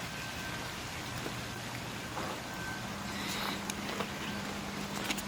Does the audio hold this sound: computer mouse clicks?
no